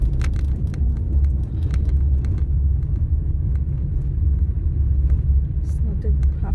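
A car rolls along a half-blocked, snow-covered road in Toronto after a snowstorm, its rear winter tyres having trouble; a steady, heavy engine and road rumble fills the whole stretch, close and continuous, with no talking.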